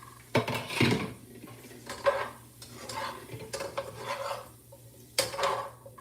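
Green beans sear in a pan, with faint sizzling beneath intermittent scraping and clinking of a utensil against the pan, quiet and close.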